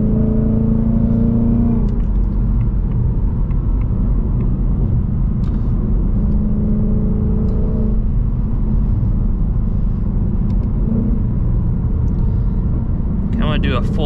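Loud 2024 Mustang GT engine roaring through a full second-gear pull, a sustained close deep rumble with rising harmonic tones, while someone talks over it.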